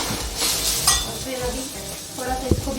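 Turmeric and spices roasting in a hot pan for a South Indian dish, a soft continuous sizzle with stirring scrapes and a few sharp clinks of a utensil against the pan.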